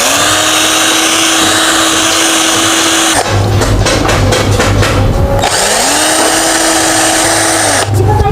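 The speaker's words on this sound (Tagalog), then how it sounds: "Gamit ang liha." Sandpaper is rubbed against the worn shaft of an electric fan while a motor runs loud and steady throughout, with the pitch shifting and a rough scraping texture between about three and five and a half seconds.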